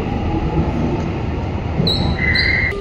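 A metro train rumbles steadily nearby with wheel squeals rising toward the end, a loud continuous roar of rail noise on a city underground line.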